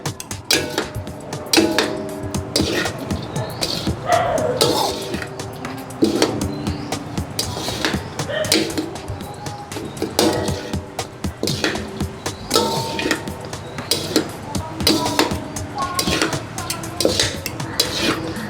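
Rice is tossed and mixed with tomato sauce in a pan on a low flame, a ladle clanging and scraping against the metal in a busy, continuous rhythm of loud knocks.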